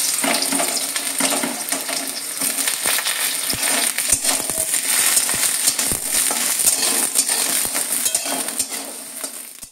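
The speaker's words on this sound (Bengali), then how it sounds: "সর্ষের তেল দিয়ে দিলাম। প্রথমে আমি বেগুনটা ভেজে নেব।" Brinjal fries in hot mustard oil in a pan, a continuous crackling sizzle with scattered sharp pops and occasional utensil scrapes, close and fairly loud.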